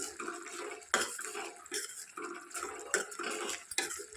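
Drumstick curry with coriander is stirred in a pot, giving a quiet, uneven run of spoon scrapes and clinks against the metal with soft wet sloshing, close by and without speech.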